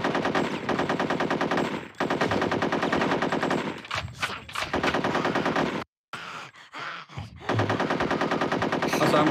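Rapid automatic gunfire from an N64 shooter video game, loud bursts filling most of the clip with a short silent gap and sparse shots before the firing resumes.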